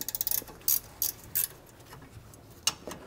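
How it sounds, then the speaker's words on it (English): An 18 mm ratcheting wrench loosening rear brake caliper bracket bolts on a Mercedes-Benz W205 C-Class, a fast run of light ticking clicks followed by a few spaced clicks, close and fairly quiet with no talk. "this is an 18 millimeter ratcheting wrench that I'm using here"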